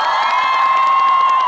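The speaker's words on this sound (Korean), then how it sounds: "박수 한번 주세요." A crowd cheers and applauds loudly and continuously at an outdoor military festival fringe show, a dense wash of claps, shouts and whoops held at full level for the whole moment.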